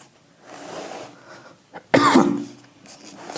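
A single person coughs, preceded by a faint throat sound and breath, then one loud, close, harsh cough burst followed by a fading trailing rasp.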